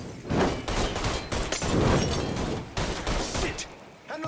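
Heavy gunfire from Mafia III: Definitive Edition on the PS5 crashes in loud, overlapping bursts, a chaotic fusillade that keeps going with hardly a break and only eases near the very end.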